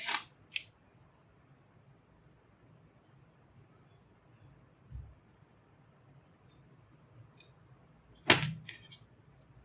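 A thermocouple probe pulled out of the case of a UNI-T UT123 pocket multimeter gives a few sharp plastic clicks and rattles, one at the start and a louder cluster near the end, with quiet gaps between.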